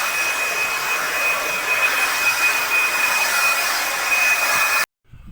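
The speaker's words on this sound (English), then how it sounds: "Blow the dust out with the blower" A loud, steady blast from a blower clears dust out of raked-out brick joints ahead of flush lime pointing, droning continuously at close range before cutting off abruptly near the end.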